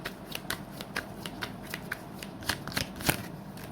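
Tarot cards being shuffled by hand, a run of quick crisp riffling snaps and flutters at an uneven rhythm, close and fairly quiet, with no talking.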